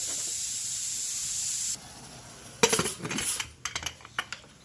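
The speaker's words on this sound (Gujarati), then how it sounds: "હવે કુકરનું ઢાંકણું આપણે બંધ કરી દઈશું।" Metallic clatter and a couple of sharp clinks as a pressure cooker lid is handled and closed, after a steady hiss fades out.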